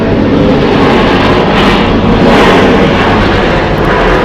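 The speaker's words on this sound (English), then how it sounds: "It is a Cessna 750 Citation X, 22 years old. Landing just in front of us" A 22-year-old Cessna 750 Citation X business jet landing close by at Atlanta's Hartsfield-Jackson airport gives a loud, steady broadband engine roar that holds throughout.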